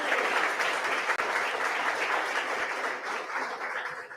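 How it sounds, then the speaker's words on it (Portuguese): A church congregation applauds with dense, sustained clapping from many hands, loud and steady throughout with no voices over it. "Aplauda o rei, igreja."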